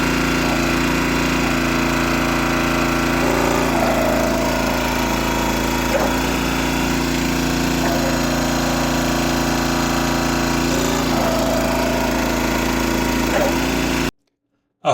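A log splitter runs at a loud, steady engine drone through a return stroke with an auto stop limiter while firewood is being split. The hydraulic tone shifts a few times, then the sound cuts off abruptly at the end.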